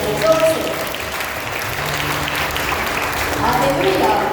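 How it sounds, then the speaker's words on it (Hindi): An audience in St. Sebastian's Church claps loudly and steadily for several seconds as a dense, continuous wash of applause, with a voice and faint tones faintly audible beneath. "तो जोर से ताली हम प्रभु के लिए बजाएंगे, जोर से।"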